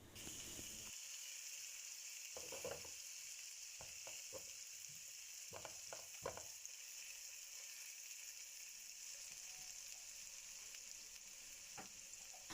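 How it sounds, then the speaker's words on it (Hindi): Ginger garlic paste frying in a pan as the masala for karhi pakora, giving a steady close sizzle with a few quick spoon scrapes and clinks, no voices. "जिंजर गार्लिक पेस्ट को भी मैं फ्राई करूँगी 2-3 मिनट के लिए"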